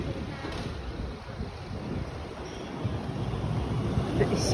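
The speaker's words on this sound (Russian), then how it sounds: "Потому что ветер очень сильный." Steady, strong wind buffeting the microphone with a continuous low roar, filling the whole stretch without letup.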